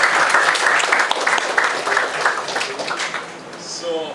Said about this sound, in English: So I would love a clap for that.